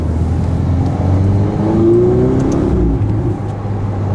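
A Ferrari 488 GTB pulls away under light throttle, heard from inside the car as a loud, smooth engine drone whose pitch rises steadily over a few seconds, with no talking.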